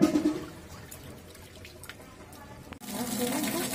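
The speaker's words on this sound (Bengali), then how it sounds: "ডাঁটা ধোয়া হয়ে গেল, ডাঁটা ধুয়ে তুলে দেবো।" Vegetable stalks are swished and rinsed in water, with a steady trickle and splashing that briefly pauses, then resumes more strongly; no one speaks.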